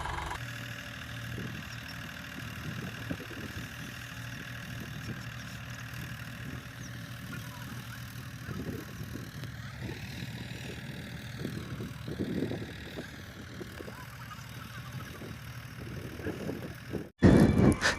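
A tractor pulling a turmeric planting machine gives a low, steady engine drone throughout as it moves along, ending with a sudden loud burst of noise.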